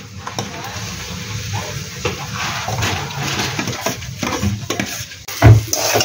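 Potato added to a frying pan and stirred for Bengali vegetable chop, with a steady soft sizzle under scraping and stirring, and a louder clatter near the end.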